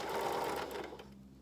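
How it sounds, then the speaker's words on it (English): A sewing machine back stitches along the seam of a cloth face mask, its steady rapid needle whir running close and continuous before easing off slightly near the end. "This time I am going to lock in my stitches at the beginning and the end of my sewing line"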